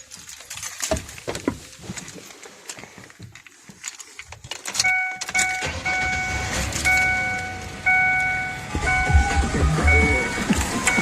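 A Ford Explorer with an exhaust manifold leak is handled with key jangles and clicks, then its engine cranks and settles into a close, steady idle with whining tones and ticking from the leak.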